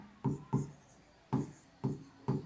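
Pen or chalk strokes on paper or board during a Class 8 maths lesson: five short, scratchy bursts close by, spaced unevenly, with quiet room tone between them.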